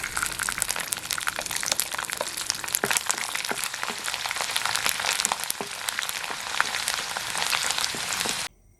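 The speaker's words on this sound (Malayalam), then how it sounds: "നമുക്കിതിലോട്ട് രണ്ട് തണ്ട് കരിയാപ്പിള ഇട്ട് കൊടുക്കാം കുറച്ച് വെളുത്തുള്ളി ഇട്ട് കൊടുക്കാം" Curry leaves and garlic crackle and sizzle in hot oil for a Kerala lemon pickle, a dense continuous frying hiss with sharp pops, close and loud before stopping abruptly.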